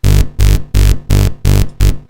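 Punchy electro bass synth from a demo sound in FL Studio, six loud, evenly spaced notes in a steady pulse on the offbeats, each cut off sharply, playing alone.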